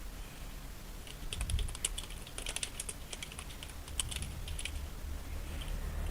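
Computer keyboard typing while working in Microsoft Word: quiet, irregular bursts of light key clicks with short pauses, steady low room hum beneath and no voices.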